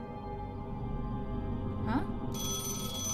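In The Lion's Song video game, a telephone ring cuts in with a bright, steady tone over a quiet ambient music bed. A brief vocal murmur comes just before the ringing.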